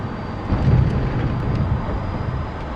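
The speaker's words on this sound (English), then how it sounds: "Well done, pilot. You landed a Tomcat on a carrier." F-14B Tomcat jet landing on an aircraft carrier deck in the DCS flight simulator, a steady loud engine roar with a heavier thump near the start, sustained throughout without speech.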